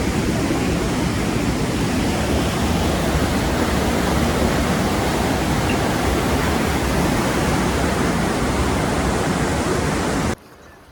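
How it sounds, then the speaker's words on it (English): Continuous broadband roar of rushing water from a secluded waterfall in Costa Rica, steady and loud throughout, cutting off abruptly near the end. "I came down a bit further to find this lovely secluded bit of waterfall"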